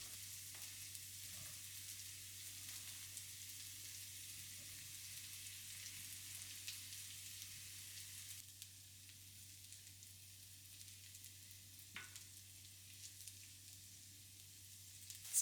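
Vegetables sizzle in a hot pan for a chicken stir fry, a quiet, steady frying crackle under a low background hum with no voices.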